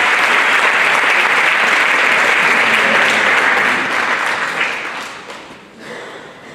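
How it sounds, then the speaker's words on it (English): Audience applause fills a big band concert hall after a vocalist's number in a tribute show, loud and steady for several seconds, then thinning and fading toward the end. "how about another big round of applause"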